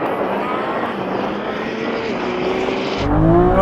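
A Lamborghini Revuelto and a Ferrari SF90 roar off the line in a drag race, with a loud, sustained engine howl that swells and deepens near the end, close and with no talk.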